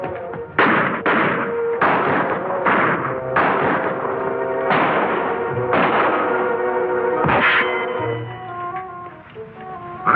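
Gunfight in an old western TV series, a rapid string of loud, sharp gunshots with echoing tails, about eight close reports over several seconds, followed by a quieter tail.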